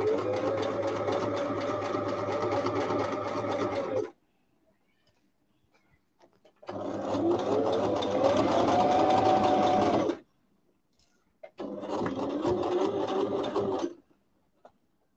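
A sewing machine stitches a shirt collar in three long, steady runs of rapid mechanical whirring, each lasting several seconds. Clear pauses of near silence separate the runs, and no one talks over it.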